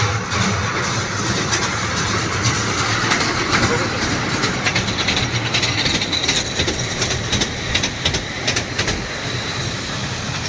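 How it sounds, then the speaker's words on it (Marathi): A small children's ride train runs through a garden, its steady rumble and rattling wheels continuous and fairly loud, with voices and crowd chatter mixed in. "छोटासा ट्रेन आहे, मुलांना बसवायचं ह्यामध्ये"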